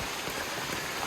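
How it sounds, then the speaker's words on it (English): Steady rain patters on the ground and foliage along the Appalachian Trail in Virginia, a soft, even hiss of drops with no voices over it. "The rain did not hold off."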